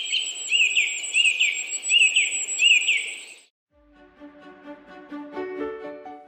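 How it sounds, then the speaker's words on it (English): Songbirds chirp in a garden with bright, repeated high tweets over a steady insect-like hiss. The calls then give way to a softer scatter of varied, overlapping bird notes. "immersing ourselves in the melodious chirping of bird persons"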